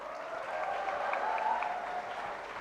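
Audience at a conversation panel with Bollywood and Turkish actors applauding, a brief soft, distant patter of clapping with a faint murmur.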